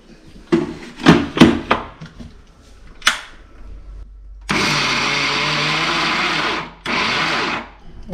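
A mixer grinder coarsely grinding dried red chillies and fennel seeds runs in two loud, steady bursts, one long and one short, after a stretch of earlier voices and handling clatter.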